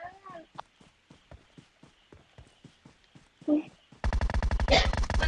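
Rapid burst of video game gunfire, loud and dense, erupting after a stretch of sharp clicks and light footstep-like taps with a voice briefly over them.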